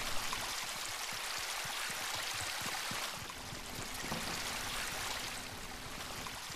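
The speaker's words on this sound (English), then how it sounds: "There's water." Flowing water in the game Fortnite, a soft continuous stream-like rush with light splashing texture, faint and steady throughout with no talking.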